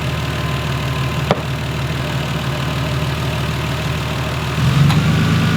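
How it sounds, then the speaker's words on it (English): A car engine idles steadily up close, and near the end an A/C compressor clicks on with a brief thump, adding a slightly louder, lower hum to the running engine. "You just heard the compressor kicked on."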